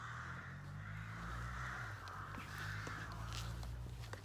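Crows caw in trees beside a wood fire being fed, several calls spread across the stretch, moderately distant, over a continuous low fire rumble and faint rustling.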